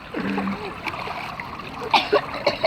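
Water splashes in a backyard pool during a children's water fight, a few sharp bursts late in the clip amid laughter and children's voices.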